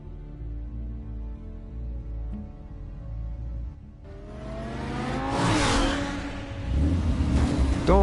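A car engine in the Batman Telltale video game revs up and accelerates, growing louder with whooshing, rising tones before a heavier roar near the end; no one speaks.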